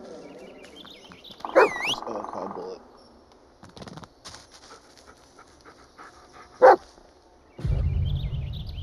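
Dog in the Blair Witch video game, with a few brief sharp barks or yelps spread apart amid panting and quiet ambient night sounds, broken by louder bursts of game noise.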